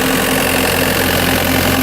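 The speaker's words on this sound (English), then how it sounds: "Then we can look at the engine. It's running right now." A 2011 Caterpillar 906H wheel loader engine idling close by, a loud steady diesel drone with an even low throb and no voices.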